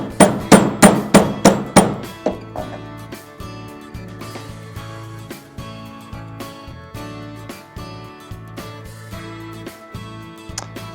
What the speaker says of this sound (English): I'm going to use the hammer here and just kind of bring that around a little bit on the ends